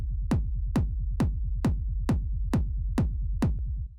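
A deep, pulsing low rumble repeats about twice a second, each throb starting with a sharp attack and decaying quickly, steady and isolated.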